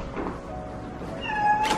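A cat at a campsite meows once, a clear rising-and-falling cry near the end, after a soft thunk or knock, close and fairly loud with no talk over it.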